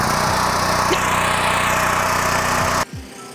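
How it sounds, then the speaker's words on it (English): A WGen 7500 generator runs loudly and close with a steady engine drone, then the sound drops off sharply near the end, leaving quieter low rumbles and handling noise. "the generator has started"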